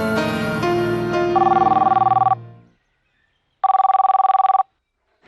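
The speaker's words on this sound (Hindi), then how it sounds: "तेरा फोन है" A landline telephone rings in a home during a TV drama scene: a steady electronic trill sounds in two loud bursts of about a second each, separated by silence, over fading background music.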